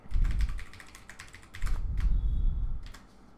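Quick, close keystrokes on a computer keyboard come in two dense bursts, with a brief pause in between and a soft trailing tap near the end.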